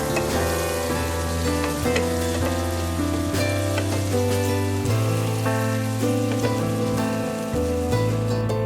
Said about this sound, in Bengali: পেঁয়াজগুলো ভাজা হবে, লাল লাল করে একটু ভাজা হবে পেঁয়াজগুলো